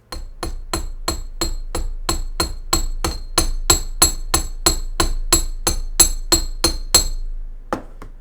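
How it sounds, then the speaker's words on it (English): A small hammer taps a curved section of wire on a wire earring, about twenty sharp, evenly spaced metallic strikes close up in steady rhythm, with a slight pause and one lighter tap at the end. "Position it so that you can hammer just that little curve."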